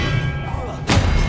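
An Expelliarmus spell striking a target in Hogwarts Legacy, heard as a single sudden, heavy thud-like impact with a bright burst after a quieter stretch of game ambience.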